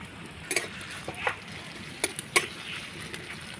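Whole cumin seeds and chopped chillies fry in oil for a tempering, giving a soft steady sizzle broken by several sharp spatters and stirring clinks close by.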